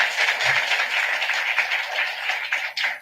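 A church audience at a celebration-of-life mass applauds in a sustained, even wash of clapping, moderately loud and fairly close, with no voices standing out.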